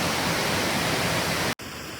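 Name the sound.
waterfall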